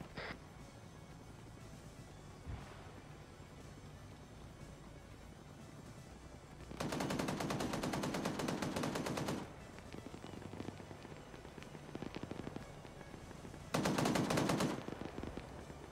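Machine gun fire in a video game comes as two long, dense automatic bursts, each lasting several seconds, loud over steady background rumble.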